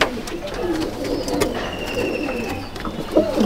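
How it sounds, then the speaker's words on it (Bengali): Flying pigeons, including teddy and golden breeds, coo softly in a loft, a low murmuring of several birds with a few higher chirps, steady and close throughout. "এগুলো সব উড়ানোর পায়রা"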